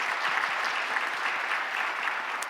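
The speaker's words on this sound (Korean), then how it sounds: "박수로 위로해 드리도록 하겠습니다." A church congregation applauding during a Sunday worship service, a steady wash of many hands clapping in a large room, sustained and fairly distant with no clear speech.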